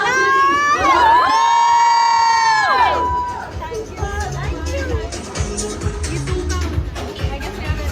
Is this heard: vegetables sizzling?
no